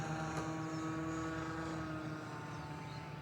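Small RC fixed-wing airplane with a nicked propeller flying at about half throttle, giving a steady droning buzz that holds evenly throughout with no talk.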